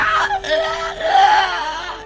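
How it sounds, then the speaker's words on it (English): A monster in a video game lets out a stuttering, wailing scream as it is electrocuted, one short broken cry with a steady electric hum beneath. "You hear this horrible screaming that stutters as it cries out as the monster"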